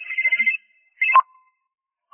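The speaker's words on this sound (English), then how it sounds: "Nick quickly answers his phone." A phone ringtone signals an incoming call: a short, bright repeating melodic trill that stops, then a brief second chirp and silence as the call is picked up.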